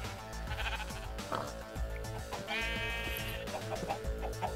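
Sheep bleat several times in the block-building game Minecraft, the wavering baa calls standing out over dense background music. A longer, prominent bleat comes midway.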